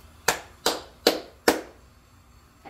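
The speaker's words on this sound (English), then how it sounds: "I'm gonna try to clap it a little bit here." Four sharp slaps ring out at an even pace as a roti is clapped between the hands in a home kitchen, each crisp and close with a short decay and quiet gaps between them.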